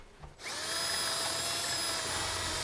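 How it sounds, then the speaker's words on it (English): A power drill whirs steadily at high speed after a brief quiet start, a continuous loud mechanical whine biting through wood in an attic, with no talking. "get up in the attic and drill it down"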